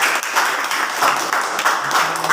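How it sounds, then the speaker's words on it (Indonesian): A classroom audience claps in steady, dense applause that runs throughout, fairly loud and uninterrupted. "beri tepuk tangan yang meriah."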